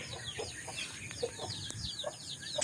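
Chickens cluck in a provincial garden, with short, scattered clucks and calls from several birds rising faintly over a steady background hiss.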